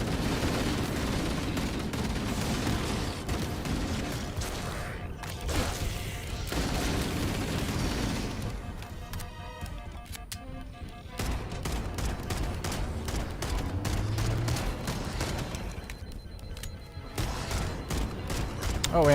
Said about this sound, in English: you can also headshot people with this assault rifle